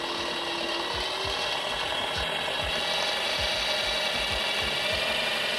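A small wind generator turned by hand, giving a steady mechanical whir with a regular ticking or ratcheting pulse about once every half second, continuous and close.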